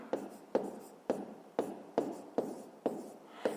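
Pen strokes scratch across paper in a quick regular rhythm, about eight short close strokes, quiet and dry with no voices.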